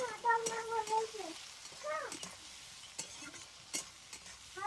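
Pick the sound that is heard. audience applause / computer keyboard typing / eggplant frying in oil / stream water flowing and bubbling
eggplant frying in oil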